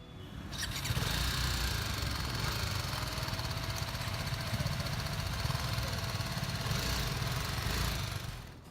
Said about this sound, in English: At idle, the exhaust note reminds you it's a puny 310cc.